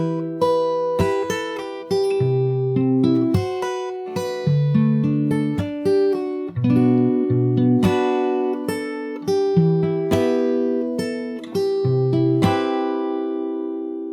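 Fingerstyle guitar plays a song: bright plucked notes over ringing bass, with percussive slap accents marking a steady rhythm, close and clear with no voices.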